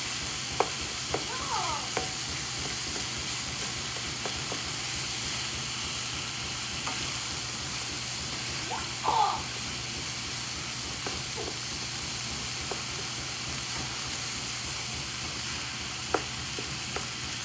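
Homemade chili fries in a pot with a steady sizzle and hiss, while occasional scrapes and clinks of a spoon stirring sound close by.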